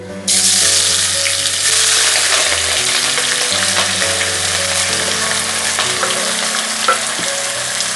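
Onions hit hot oil and burst into a loud, steady sizzle that carries on without pause, with soft tonal music faintly underneath.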